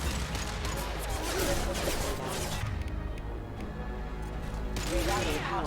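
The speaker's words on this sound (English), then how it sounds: "Taking heavy fire!" Heavy gunfire in the Mass Effect 2 video game, rapid overlapping shots and impacts in a dense barrage with a brief lull mid-way, under game voices and music.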